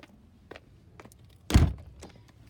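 A UPVC front door at a house inspection shuts with a single solid thunk midway through, preceded by a few light rattles and clicks of the handle and frame, with no talking.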